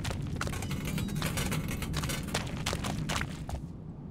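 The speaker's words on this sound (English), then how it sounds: "that's the sound of me stepping on blood" Footsteps squelching through blood in the 2014 stealth game Thief, a soft steady shuffle of wet steps under a dense ambient game bed.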